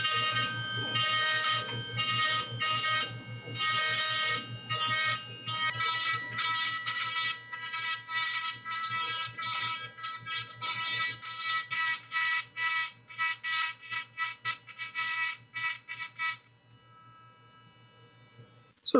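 A battery-operated grinder slots a knife guard, giving a steady high-pitched whine over a low hum that breaks into choppy, stop-start bursts before cutting off near the end.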